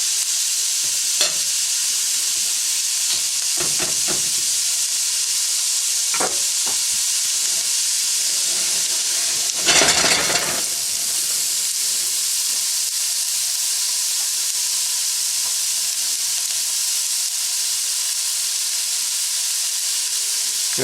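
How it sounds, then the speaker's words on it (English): Chinese sausage fries in a pan with a steady bright sizzle, broken by a few stirring scrapes and a louder burst of hissing steam midway, close and without talk. "Now the Chinese sausage needs to cook."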